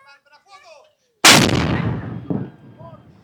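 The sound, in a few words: cannon firing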